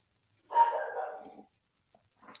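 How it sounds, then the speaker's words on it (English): A single dog bark, close and fairly loud, ringing out for about a second in an otherwise quiet indoor setting, followed by faint small noises. "Sorry about the dog."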